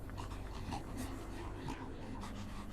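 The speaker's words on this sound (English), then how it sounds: "I hear creepy breathing behind me" Raspy, creepy breathing in the Death Mark horror game, close and faint, with soft rhythmic huffs and snorts layered over a low ambient drone.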